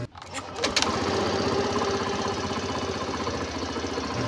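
A Suzuki Burgman Street scooter engine starts after throttle body and fuel injection cleaning, then settles into a steady, close, rapid idle that runs alone without pause.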